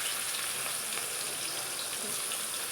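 Onion, garlic and dried chilli paste frying in oil with bay leaf and whole cumin for chicken curry, giving a steady close sizzle that holds evenly throughout with no voices.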